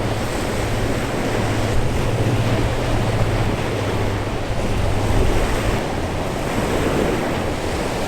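Ocean surf rolls continuously onto a Cape Cod beach, a loud, steady wash of waves mixed with gusting wind rumbling across the microphone, with no voices.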